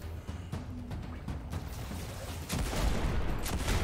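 Enemy gunfire in the Destiny 2 shooter game, scattered sharp shots crackling at mid distance before a heavier, louder burst of fire swells toward the end.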